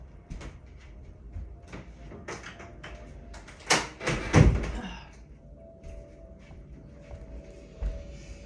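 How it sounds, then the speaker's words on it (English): A front door swinging shut at home, with a loud thump and rattle of the latch standing out near the middle, surrounded by softer shuffling and handling noises close by. "Just going to close the front door."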